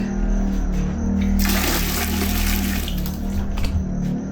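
Water pours from a shower tap in a campsite washroom, a steady hiss that swells to a stronger rushing spray over a low hum, with no talking.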